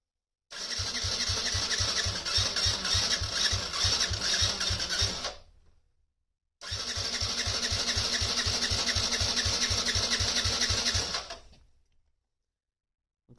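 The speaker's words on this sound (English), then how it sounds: "Okay, wide open throttle" A Yamaha Raptor ATV engine cranks over with the throttle held wide open for a compression test. Two long bursts of steady, rapid chugging pulses last about five seconds each, separated by a short silence.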